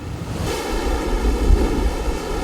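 Rough sea waves wash around a moored fishing boat off Chuja Island during yellow croaker season, a continuous close surge and rumble mixed with gusting wind noise.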